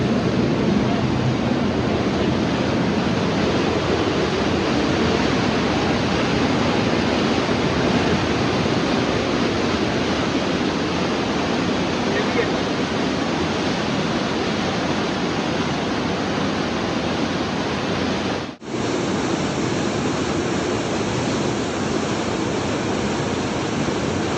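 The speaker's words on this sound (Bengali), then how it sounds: "গ্লেশিয়ারের জলটা পুরো ওপর থেকে নিচে নামছে" Glacier meltwater plunging down a waterfall at Johnson Canyon, a loud unbroken roaring rush close by, with a short dropout near the end.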